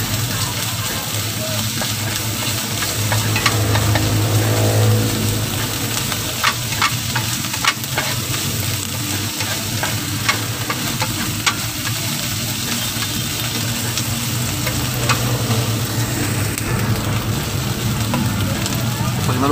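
Red shrimp paste (alamang) stir-fried in a pan with cooked ingredients, a steady sizzle with repeated scraping and stirring clinks, close up, with a voice speaking briefly.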